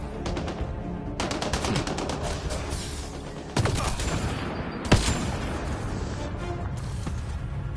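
Automated turrets fire on enemies in the video game Mass Effect Andromeda, steady rattling bursts of rapid gunfire with a few louder impacts, sustained throughout.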